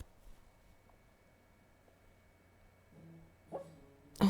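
A dog named Spuddy barks a few times in the background of a quiet room, faint and distant at first, then one louder sharp bark at the very end, with no talk over it.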